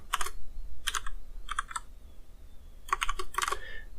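Clustered runs of keystrokes on a computer keyboard, close and crisp, with short pauses between bursts of typing.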